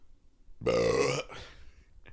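A single loud, deep, hearty belch after drinking a sugary bottled drink, a sustained rumbling burp of about half a second that is followed by a quieter breathy tail.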